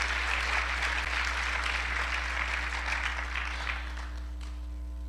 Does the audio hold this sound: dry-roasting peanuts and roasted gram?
no